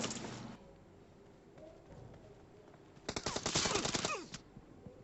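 An Uzi submachine gun fires in a video game, with a short burst at the start and then a denser rapid automatic burst of sharp cracks a little past midway, over quiet game ambience.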